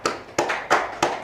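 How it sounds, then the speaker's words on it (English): A few people clap at the opening ceremony of a space studies program, welcoming the class of 2022: four sharp, evenly spaced bursts of sound over about a second, thin rather than a full crowd, with no talking. "virtual applause for everybody"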